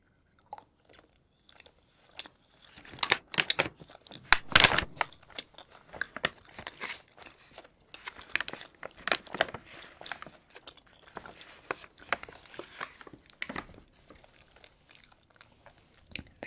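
Soft, wet chewing and squishy bites of a thick, chewy strawberry marshmallow-like Sanrio candy, close to the mouth and quiet, with irregular clusters of louder smacks and crinkles between softer stretches.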